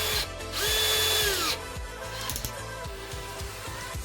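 Power drill working on an airsoft gun part, a loud whining motor burst that spins down, followed by repeated short ratcheting drill pulses at close range.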